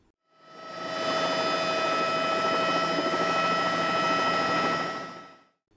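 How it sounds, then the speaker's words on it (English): A helicopter lands on the ice of frozen Lake Erie, making a steady, loud rotor and turbine roar with a constant mechanical whine that fades in and out and holds evenly throughout, with no talking. "the helicopter will land on the ice and bounce to test the stability."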